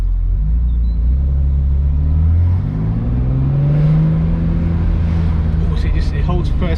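A BMW E46 M3 with the SMG gearbox pulls hard in first gear, its engine note rising loudly from a low rumble to a strained rev, then easing off, under a driver's talk.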